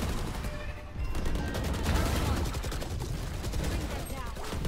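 Gunfire in a first-person shooter video game, scattered shots and short bursts crackling through a busy, continuous mix of game noise, with a voice faintly present underneath.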